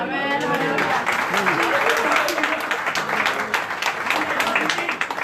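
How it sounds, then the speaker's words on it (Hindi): A crowd gathered for a roadside prayer meeting claps together, a steady dense patter of hands lasting throughout, with voices mixed in underneath. "ताली बजाते"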